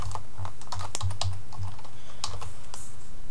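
Rapid, uneven clicking of keys on a computer keyboard, close and clear, in short bursts with brief pauses.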